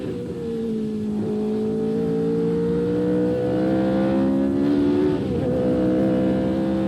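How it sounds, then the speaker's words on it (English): A 1978 Formula 1 car accelerates hard around the Brands Hatch Grand Prix circuit, its loud engine whine climbing steadily in pitch with a brief dip at a gear change, heard onboard and continuous. "Accelerating hard, down into second gear."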